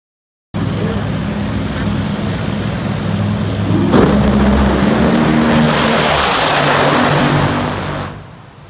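NHRA drag race cars at the York Nationals in a stop-motion staging launch with an abrupt, very loud engine roar that surges midway, holds as a dense, sustained blast, then fades quickly at the end.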